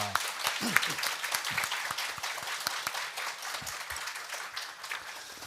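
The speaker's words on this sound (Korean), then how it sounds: "박수로 환영합니다" A church congregation at a Sunday Christmas service claps to welcome an elder, with distinct individual claps standing out against a moderate wash of applause that gradually thins, and a voice speaking over it.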